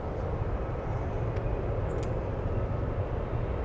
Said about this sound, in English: We have an encore departure of EVA, the big 777